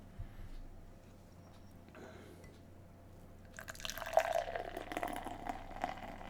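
New England IPA beer is poured into a glass, starting with faint drips and trickles, then a steady, louder fizzing pour that fills the last few seconds, with no voices.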